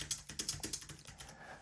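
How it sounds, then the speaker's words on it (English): Close typing on a Palm Portable Keyboard converted to Bluetooth and paired with an iPad: a quick run of about a dozen crisp plastic key clicks at an uneven pace, with no speech. "You can just start typing."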